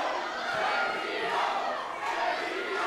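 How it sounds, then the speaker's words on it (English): Wrestling crowd at a Greek Town Wrestling event chanting a count along together, a dense, continuous roar of many voices with rhythmic swells across the arena. "You can hear the crowd count along."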